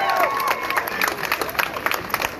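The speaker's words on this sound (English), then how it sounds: "Please give yourself a round of applause for being here." Rally crowd applauding and cheering, a dense wash of clapping with shouts and whoops mixed in, loud and close for the whole stretch.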